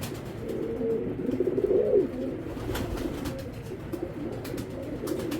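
Belgian racing pigeons coo softly in a cage, repeated throaty burbling calls under faint background clatter.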